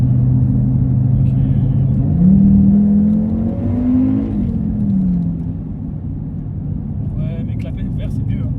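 An Audi RS3 stage 2 (480 hp) engine revs with its exhaust valve open, a loud steady drone rising in pitch then falling back, with faint talk near the end.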